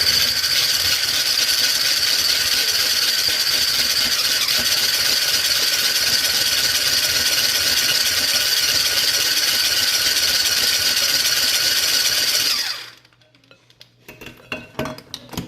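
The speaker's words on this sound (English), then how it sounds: "We're gonna blend this first for a little bit, just cream it up just a little bit." Electric blender or mixer creaming banana cake batter, a loud, steady, close whirring drone for about twelve seconds that then cuts off, followed by a few soft clinks and knocks.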